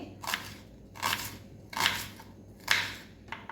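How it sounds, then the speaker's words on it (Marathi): Half an onion is finely chopped with a knife on a board in four or five crisp, evenly spaced cuts, close and clear with no talking. "बघा अर्धा कांदा आपल्याला ना बारीक असं चिरून घ्यायचा आहे"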